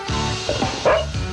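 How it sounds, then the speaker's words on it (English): A dog gives short, close barks and yips during a radio broadcast, with a brief rough bark near the end. "That's my dog."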